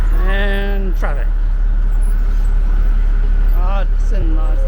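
Road traffic in a city street in Panama forms a loud, steady low rumble with passing engines, while people talk over it throughout.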